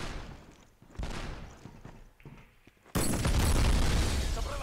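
A grenade blows up in a first-person shooter video game: scattered gunfire and clanks give way to a sudden loud blast and a long, heavy rumble that carries on to the end.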